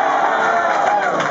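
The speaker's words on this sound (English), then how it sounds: "The cheers got progressively louder." A crowd cheers and shouts at a World Cup draw watch party for Kansas City Wizards fans, a dense, steady roar of many voices held at full volume from start to finish.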